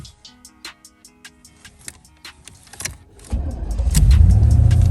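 Quiet clicks and rattles, then a 1992 Chevrolet Camaro Z28's engine, unstarted for years, cranks and catches at about three seconds, settling into a steady, loud idle close by.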